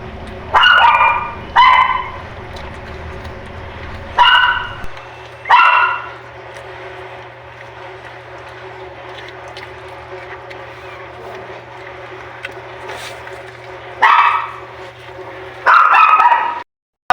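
A dog that has just given birth to puppies barks in short bursts, two quick barks, then a few more spaced out, and a final cluster near the end, over a low background hum.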